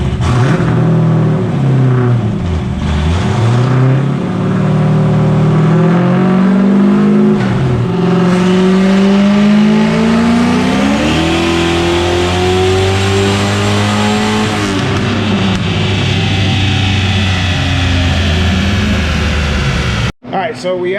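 Turbocharged Ford 363 stroker engine on a dyno, droning loud and close as it pulls steadily upward in revs, then cuts off abruptly at the end of the run.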